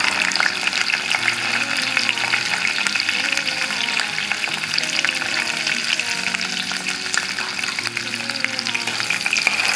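Onion, garlic and dried red chili frying in a pan: a dense, continuous sizzle and crackle with occasional stirring scrapes, close and fairly loud, with no talking over it.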